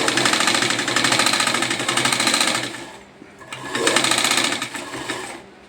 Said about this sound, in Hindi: फिटिंग लाइन में हम सिलाई मारते हैं।